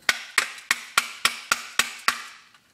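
A hammer strikes a broken Xbox controller eight times in a steady, evenly spaced rhythm. Each close, loud, sharp knock decays quickly, and the final blow is followed by a faint last tap.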